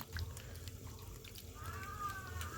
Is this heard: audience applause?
no